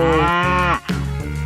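A cow lets out a loud, close moo as part of an animal guessing game: one long drawn-out call that dips briefly and then carries on.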